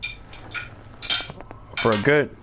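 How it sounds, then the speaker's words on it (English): Plates and cutlery clink and clatter in a kitchenette, a few bright knocks followed by a denser burst of ringing dish contact, with a voice briefly audible between them. "the only clinking of the plates can be heard above the constant tick-tock"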